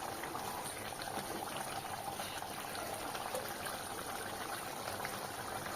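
Prawn gravy in a pot, bubbling and simmering steadily under a continuous liquid hiss, with faint stirring mixed in.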